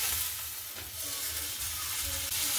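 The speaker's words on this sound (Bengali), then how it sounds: "মাছের তেলটা যেটা ধুয়ে রেখেছিলাম সেটা আমি দিয়ে দিচ্ছি সেই পেঁয়াজের ওপরে" Washed fish fat hits frying onions in a pan, giving a continuous bright sizzle over a low rumbling stir, close and fairly even throughout.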